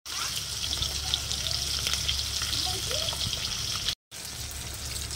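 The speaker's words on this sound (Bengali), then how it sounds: "এই মাছ ভাজা হচ্ছে আর কি, হলুদ ছাড়া মাছ ভাজা।" Fish sizzles in hot oil without turmeric in a home kitchen, a dense continuous crackle and hiss with small pops and a brief dropout near the end, no talk.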